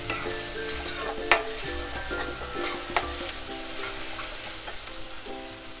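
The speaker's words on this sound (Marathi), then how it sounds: "चांगलं हलवायचं." Crushed masala frying in a pan, stirred steadily with a constant sizzle and a few sharp scrapes of the spoon against the pan; no voices.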